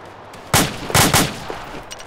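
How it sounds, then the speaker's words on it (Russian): Sharp gunfire bursts in the ArmA 2 ACE military game, with a short volley followed by two more quick bursts of rapid shots, loud and fairly close, then a faint trailing crack. "Так, что за стрельба?"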